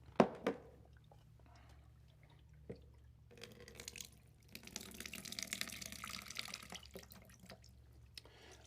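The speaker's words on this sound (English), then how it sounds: "you can go back and pour the water off." Water poured off deco beads in a table centerpiece: a few sharp clinks of beads at first, then a quiet pause, followed by a steady, close splashing pour that trails off into trickles.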